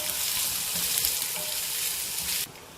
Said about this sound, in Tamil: இதில் வெங்காயத்தை சேர்த்துக்கலாம். நல்லா வதக்கிக்கலாம் நிறம் மாறுற வரைக்கும்.